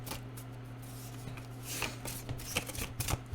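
Tarot cards being shuffled by hand, a soft steady riffling and sliding with a few sharper snaps near the end, close and fairly quiet over a low background hum.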